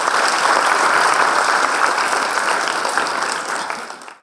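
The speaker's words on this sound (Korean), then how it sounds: "큰 박수로 환영해 주세요." Audience applause welcoming a speaker at an Ignite-style tech talk event, dense steady clapping filling the room from the start and tapering off near the end, with no talk over it.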